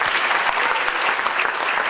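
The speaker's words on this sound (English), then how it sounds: "give him another round of applause" An audience at a live talk applauding steadily, a dense wash of clapping that holds at full strength for a couple of seconds with no talking.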